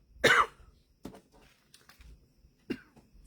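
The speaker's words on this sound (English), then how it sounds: "now my cough is coming back" A single sharp, close cough rings out, followed by a couple of softer coughs or throat-clearing sounds a few seconds apart in an otherwise quiet room.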